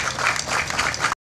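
Strong crowd applause at a flag-raising ceremony welcoming a speaker, dense and steady clapping for just over a second before cutting off abruptly.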